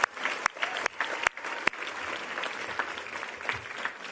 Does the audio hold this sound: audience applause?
yes